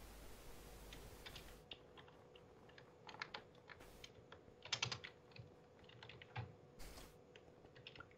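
Quiet keystrokes on a computer keyboard while typing a chat message during a Minecraft game, irregular clicks in short bursts, soft and close, alone without talk.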